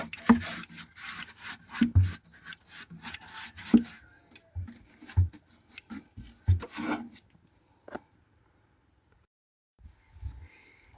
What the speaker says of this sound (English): Just rubbing inside the box.